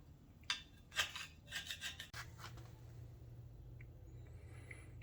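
Grease is scraped off the front spindles of a 1974 Pontiac Trans Am with a 455 engine, a handful of short, faint rasping strokes close by, then near silence.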